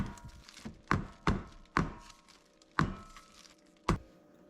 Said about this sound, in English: tap the pan a few times to get the air bubbles out